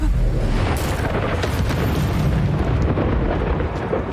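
A fire spell cast in Hogwarts Legacy bursts out as a loud, sustained roaring whoosh with booming impacts, filling the whole stretch without letup.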